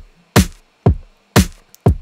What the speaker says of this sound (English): this is a really simple kick and snare.